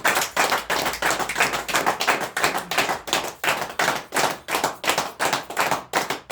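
A person claps hands steadily, a run of sharp, evenly spaced claps at a brisk rhythm, loud and close with no talk.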